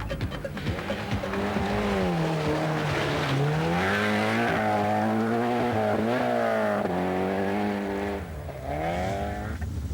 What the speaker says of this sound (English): And Kalle Grundle smooth and swift in the little Volkswagen.